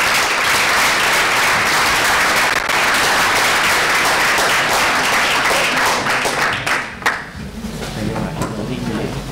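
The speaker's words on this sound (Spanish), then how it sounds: "os pido en nombre de ellos un fuerte aplauso" Loud, sustained applause from a hall full of delegates at a world economics congress runs for about seven seconds, then thins out, and a voice starts talking over a low hum.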